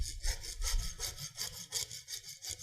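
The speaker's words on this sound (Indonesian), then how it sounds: "Oh, masih ada satu alat peraga lagi, gergaji ya." A handsaw cutting wood, used as a classroom demonstration, rasps in steady back-and-forth strokes, about five rhythmic pulls in quick succession, close and fairly loud with no talking.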